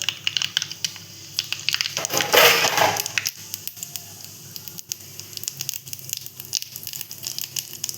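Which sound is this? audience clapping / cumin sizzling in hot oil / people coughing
cumin sizzling in hot oil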